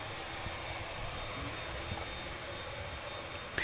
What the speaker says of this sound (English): And the Dreamliner now heading over here, down in Tango